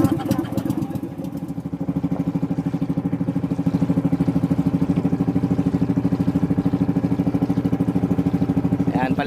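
A steady, loud motorboat engine on a small outrigger boat among milkfish ponds in Dagupan City, Pangasinan, running at an even throbbing rhythm, chugging continuously throughout.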